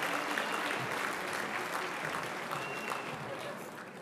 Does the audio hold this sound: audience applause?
yes